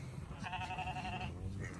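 A lamb on a farm gives one clear, wavering bleat lasting under a second over low background noise, fairly faint and close.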